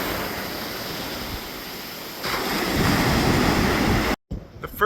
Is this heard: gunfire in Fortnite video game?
no